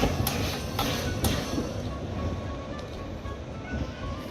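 A train at a station rumbles steadily nearby with a broad, low roar, and a few sharp metallic clanks stand out near the start.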